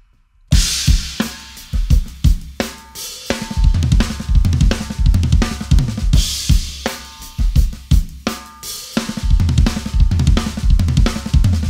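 A drum kit plays a groove with busy fills at 80 BPM, snare, toms, kick and cymbal crashes hitting in quick clustered bursts, loud and close with no talking.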